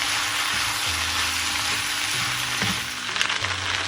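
Pasta tossed with chicken and vegetables in a hot pan, a steady loud sizzle with scraping stirs and occasional clinks of the spoon against the pan, no voices.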